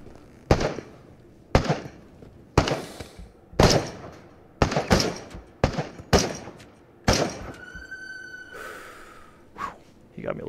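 Sniper rifle gunfire in the VR shooter Into the Radius, about eight sharp loud shots at roughly one-second intervals, followed by a high electronic tone, with heavy breathing and brief reactions between.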